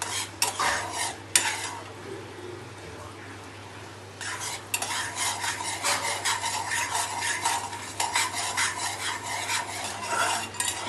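Sugar syrup being stirred in a pan for a cashew tacos dessert, a continuous close scraping and swishing of the spoon against the pan with a soft sizzle beneath, briefly pausing then resuming steadily.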